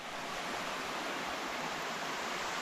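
A waterfall beside the Appalachian Trail, a steady broadband rush of falling water, even and unbroken throughout.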